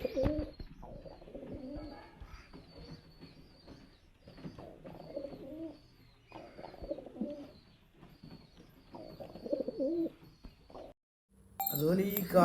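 Fancy pigeons kept for sale in Chettippadi, Malappuram, give repeated low, throaty coos in rolling phrases, close by, with a person talking at times between them.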